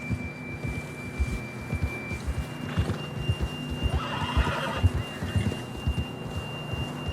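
A horse whinnies and snorts in Red Dead Redemption 2, a clear mid-level neigh over steady hoof clip-clop and a faint tonal background hum, with no talking.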